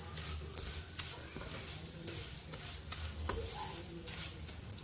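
Fine vermicelli lightly frying and being stirred in a pan for sheer khurma, a soft steady sizzle with scraping stir strokes and clicks, close and fairly quiet, with no talking.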